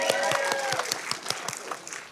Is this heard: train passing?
no